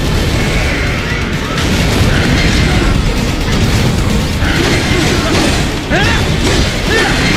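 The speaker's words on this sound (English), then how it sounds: "Catch that missile before it blows!" A missile explodes in Metal Gear Rising. Heavy rumbling blasts and crashing mechanical noise fill the whole stretch at high, sustained loudness.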